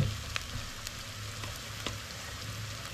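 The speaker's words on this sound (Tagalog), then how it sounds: "Kulang-kulang 1 kilong sibuyas ang ilalagay nila. Yan. So hihintayin natin masute." About a kilo of onions sautéing in a wok, a steady close sizzle with soft crackles and occasional small pops throughout, no voices.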